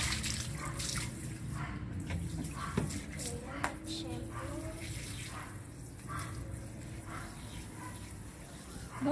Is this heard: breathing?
no